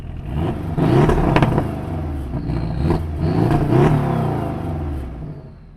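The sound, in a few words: Porsche 718 Boxster S active valve exhaust revving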